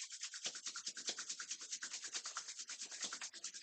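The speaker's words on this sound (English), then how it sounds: "Rub the palms one more time." Palms rub briskly together in a quiet yoga session, a close, steady run of quick dry swishes that carries on for several seconds with no talk over it.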